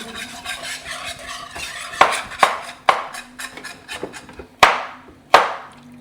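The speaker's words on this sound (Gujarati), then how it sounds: "આને મિક્સ કરતા રહેવાનું છે" Mexican rice being stirred in a pan with a utensil, a series of sharp scraping knocks against the pan at irregular intervals over a low steady background hum, close and fairly loud, no talk.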